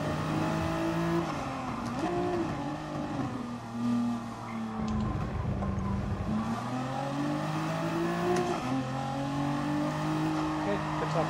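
Race car engine in a racing video game at Interlagos, a steady loud drone with rising and falling pitch as it accelerates and shifts, holding continuously throughout with a brief dip mid-run.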